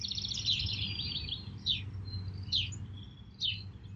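Birds calling outdoors: high, thin chirps arriving in short repeated bursts about once a second, fairly faint and distant over a low steady hum.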